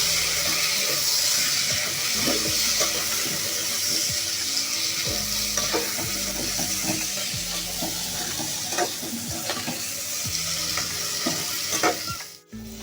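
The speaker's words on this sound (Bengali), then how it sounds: "তারপরে আমি বেগুনটাও ভেজে নেব।" Eggplant slices coated in turmeric and salt fry in hot oil, sizzling steadily and loudly throughout, with occasional clinks and scrapes of stirring.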